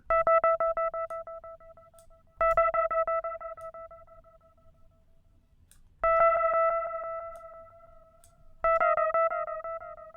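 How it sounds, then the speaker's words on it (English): Bright plucked tones ring out in four separate bursts through Ableton's Echo effect at low delay-time modulation settings, each decaying with a swirling, sweeping flange-like shimmer and delay trails. "Low settings, you can hear a flanging."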